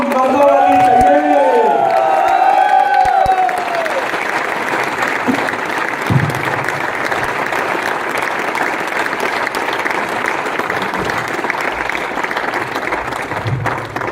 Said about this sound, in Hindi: तालियां मर्दों वाली चाहिए।